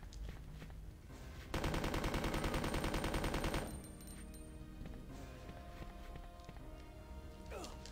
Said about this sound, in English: I got an infinite submachine gun, although it's kind of weak